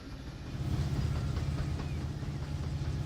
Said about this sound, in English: Yep, so this is a coal train coming from Bakersfield.